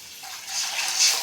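Water poured into a pan for vermicelli upma, a brief steady splashing gush that grows slightly louder toward the end, close by with no talking.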